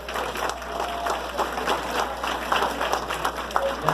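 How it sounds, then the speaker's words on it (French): An audience claps for community volunteers at a local gathering, a dense, steady applause running throughout with voices mixed in. "j'aimerais ça qu'on les applaudisse"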